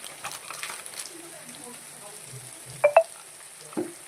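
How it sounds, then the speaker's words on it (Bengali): Spice masala is fried in oil and stirred with a quiet steady sizzle and occasional spoon scrapes, plus a couple of sharper clinks near the end, close and fairly soft. "তেলটা ছেড়ে এসছে প্লাস, আর একটুখানি কষিয়ে নেবো"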